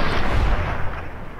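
A single loud gunshot blast from Fallout: New Vegas gameplay, landing as a headshot, booms at the start and then decays into a rumbling tail.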